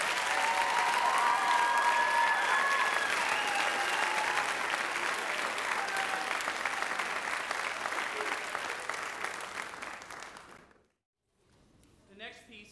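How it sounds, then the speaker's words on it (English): At a high school and middle school choral festival, an audience gives loud, full applause for the class of 2010, thick crowd clapping that slowly fades and stops, followed by a brief quiet and faint stirring. "give one round of applause for the class of 2010"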